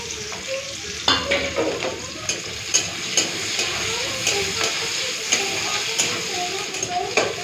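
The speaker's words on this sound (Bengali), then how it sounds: "পেঁয়াজটা হালকা ভেজে নিয়েছি" Chopped onions frying lightly in oil in a pan: a steady sizzle and hiss runs throughout, with repeated clinks and scrapes of a spoon stirring the pan at a close, even rhythm.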